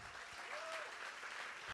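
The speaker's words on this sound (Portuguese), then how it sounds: "Palmas para o nosso autor, Sandro Veronese." An audience at a book fair applauds an author, a dense, steady wash of clapping that fills the space and stops abruptly at the end.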